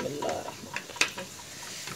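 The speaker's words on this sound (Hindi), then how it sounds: "इसको अच्छी तरह मिक्स कर लेंगे" Red chili being stirred into onions and garlic frying golden in a desi tarka, a close sizzle under scraping spoon strokes with one sharp metallic clink midway.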